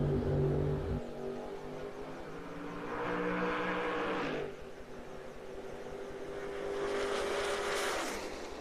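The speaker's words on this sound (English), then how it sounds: "Another car making the lap up around the corner." Race car lapping around a corner at a drag raceway, a faint distant engine drone rising and falling in two swells, heard alone with no talk.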